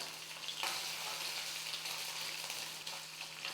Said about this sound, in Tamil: தேங்காயும் பூண்டு வந்து ஒரு நிமிஷத்துக்கு வந்து எண்ணெயில் வந்து நல்லா வதங்கட்டும்